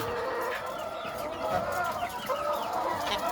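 Sick chickens with colds cluck and squawk continuously in a busy coop, with hoarse, strained-sounding calls overlapping one another at close range.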